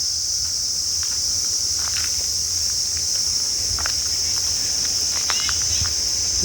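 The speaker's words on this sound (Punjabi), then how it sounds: "ਦੇਖੋ ਆ ਜਿਹੜੇ ਟਿੱਡਿਆਂ ਜਾਂ ਦੀ ਆਵਾਜ਼ ਕਿੰਨੀ ਕੜਕੜ ਜੀ ਦੀ ਆ ਰਹੀ ਹੈਗੀ" A dense, loud chorus of crickets shrills steadily at night in a quiet, overgrown spot with fallen trees and ruins nearby, while footsteps rustle and crunch close by underneath the drone.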